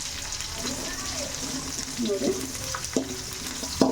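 Onions frying in a pan for vegetable fried rice give a steady, moderate sizzle with occasional stirring clinks, while someone speaks briefly over it.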